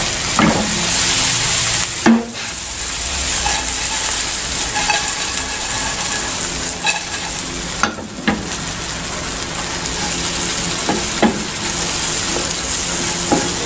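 Salty dried anchovies (dilis) and chili frying in a pan, a loud continuous sizzle close up, broken by scraping knocks as they are stirred at irregular intervals.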